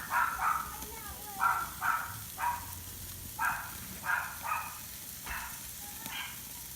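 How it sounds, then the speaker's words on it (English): Dogs bark at home beside a Weber kettle grill where tri-tip is being reverse seared, giving a series of sharp, moderately close barks in an uneven rhythm over a faint background hiss. "there goes the dogs barking"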